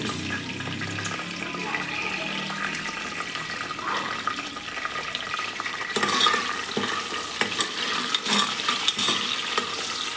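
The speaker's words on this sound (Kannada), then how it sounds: "ಇಷ್ಟನ್ನು ಚೆನ್ನಾಗಿ ಈರುಳ್ಳಿ ಎಲ್ಲ ಬ್ರೌನ್ ಕಲರ್ ಆಗೋವರೆಗೂ ಫ್ರೈ ಮಾಡ್ಕೊತೀನಿ" Sliced onions fry with whole spices in a pan, sizzling steadily and fairly quietly while a spoon scrapes and clinks against the metal, with stirring growing busier and louder in the second half.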